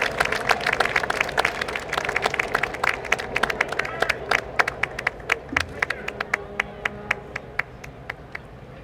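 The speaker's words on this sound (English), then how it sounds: "Let's give them a round of applause." A small group claps in scattered, fading applause outdoors at a street parade in Alexandria, Virginia, with low background murmur.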